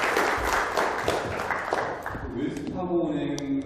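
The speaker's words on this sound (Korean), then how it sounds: "박수 한번 주시죠" An audience at a Korean-language lecture claps in a short, dense burst of applause that fades after a couple of seconds. A voice then speaks over the last scattered claps.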